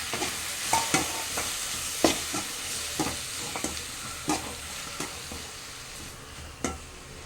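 Chopped tomatoes frying in a pan for a spicy one-pot tomato chutney, with a steady close sizzle broken by regular scraping stirs of a spoon roughly every half second to second, no voices.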